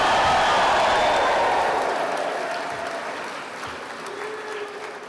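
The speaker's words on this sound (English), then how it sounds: "after 3, I want you to give the biggest cheer you can to remind the platform party that you're here" Graduation ceremony crowd of guests cheering and applauding loudly, a dense wash of clapping and shouts that gradually tapers off over several seconds.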